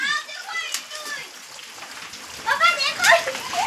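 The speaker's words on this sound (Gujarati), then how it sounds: "મોટા મોટા કરા પડે અને હજી કરા પડે" Large hailstones clatter down in a hailstorm, a dense crackling patter of impacts close by, with excited voices talking over it throughout.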